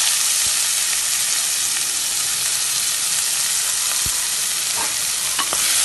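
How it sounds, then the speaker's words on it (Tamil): Onions with clove sauté in a pan for mutton head gravy, producing a dense, continuous sizzle with occasional spatula scrapes and knocks, close and steady throughout. "வெங்காயம் கொஞ்சமே வதக்கிக்கலாம்"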